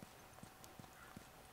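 Horse hooves clip-clop in The Last of Us Remastered on PS4, four evenly spaced soft thuds at a steady walking pace, faint and alone.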